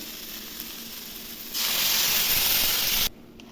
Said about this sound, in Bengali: লঙ্কা জিরে বাটা দিয়ে ভালো করে ভেজে নিয়েছি, এবার জল দিয়ে দেবো।